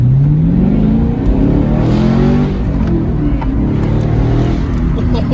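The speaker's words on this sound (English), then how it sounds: "That was a pull in the Camaro" A Chevrolet Camaro SS accelerates hard, its loud, close V8 engine note climbing steadily in pitch through the gears as it pulls with full throttle.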